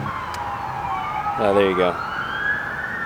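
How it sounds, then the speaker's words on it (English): Emergency vehicle sirens wail and sweep past in a city, loud and steady across the whole stretch, with a second rising tone and a brief horn-like blast in the middle and a person speaking briefly. "There's a lot of sirens coming through right now."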